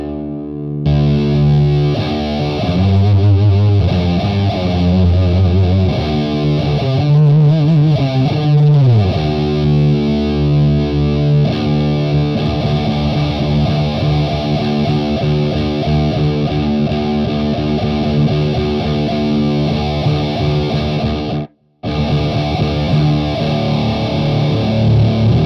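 Electric guitar through a Marshall amp with a distortion effect switched on, thick sustained chords and bending notes ringing loud and close, one brief cutout near the end.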